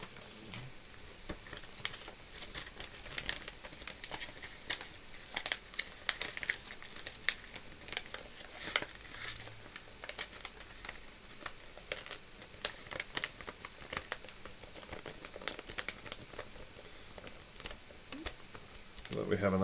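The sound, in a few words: paper being folded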